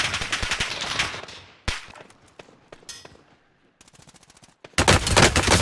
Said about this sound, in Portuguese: Mas esse tiro tá atravessando tudo.